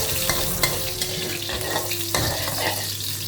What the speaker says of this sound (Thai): กระเทียมลงไปนะครับกระเทียมก่อนเลย